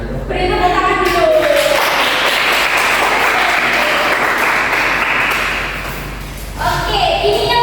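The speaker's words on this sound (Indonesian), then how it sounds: "Beri tepuk tangan dulu." Loud audience applause at an Indonesian school seminar on positive social character in the digital era, a dense burst of clapping that fills most of the clip before fading, with a voice briefly heard at the start and end.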